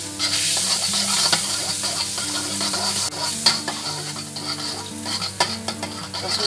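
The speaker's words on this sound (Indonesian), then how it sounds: "Lalu kita panaskan margarinnya." Margarine melts and sizzles in a frying pan over medium heat, a steady close crackling hiss with occasional scrapes and clinks of a utensil against the pan, no voices.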